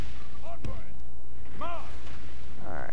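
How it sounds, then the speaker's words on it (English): Defensive towers in a Total War mod battle fire with a few dull, booming thuds over a steady low rumble, while someone talks over the sound. "How come those stupid towers are still firing?"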